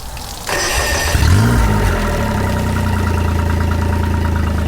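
A Tohatsu MFS 40A Jet outboard motor starts after a brief crank, surges loudly, then settles into a steady, throbbing idle close by, with no voices over it.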